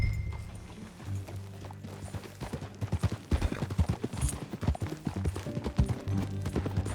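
Horse hooves clip-clop in Red Dead Redemption 2, a rhythmic run of hoofbeats that grows louder and more regular midway, over low game ambience.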